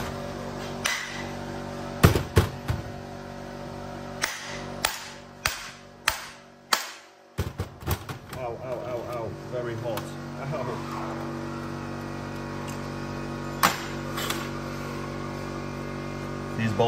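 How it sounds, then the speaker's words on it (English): Sharp metallic hammer blows strike a car turbocharger in an irregular series to knock it loose, some in quick bursts, over a steady mechanical hum. "now it's time to hammer this off"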